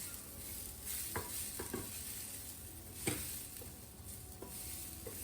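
Peanut sundal with grated coconut is stirred in a pan after the gas is turned off, giving soft scraping and tapping strokes over a faint background sizzle, close and quiet, with no talking.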